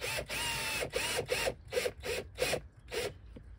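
Screws being driven into a cardboard camper cabinet frame, heard as a run of short, rasping bursts in an uneven rhythm, close and fairly loud with brief pauses between, no talk.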